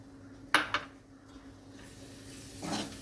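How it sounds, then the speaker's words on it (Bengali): Green peas stirred in a kadai with a metal spatula: two quick clinks against the pan, then soft scraping and a faint hiss of frying. "খুন্তি দিয়ে নেড়ে নিচ্ছি।"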